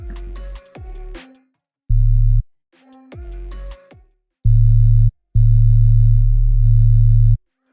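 Serum synthesizer sub bass oscillator with an added harmonic: pure low sine tones in short sustained bursts, the later ones loud and longer, alternating with passages of a brighter plucked synth melody.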